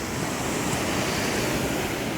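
Ocean surf washing onto a sandy beach in Bataan, a steady broadband roar of breaking waves with some wind buffeting the microphone, continuous and fairly close with no talking.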